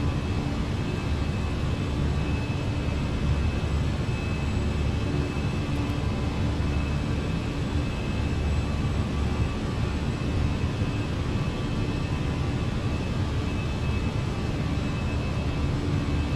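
Airbus A319 engines hold climb thrust after a São Paulo departure in Microsoft Flight Simulator, giving a steady, dense roar with a faint high whine that stays constant and unbroken throughout, with no talk.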